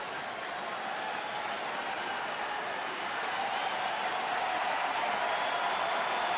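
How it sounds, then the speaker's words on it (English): A big baseball crowd at Wrigley Field cheers and applauds, a dense, steady roar from a distance that swells slightly midway and holds. "Big crowd here at Wrigley getting into it."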